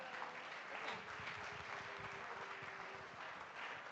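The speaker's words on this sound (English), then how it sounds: "a round of applause for me, right?" Audience applause at a startup summit, a steady broadband patter of clapping that fills the whole stretch at moderate loudness, with the crowd sound continuous and no clear breaks.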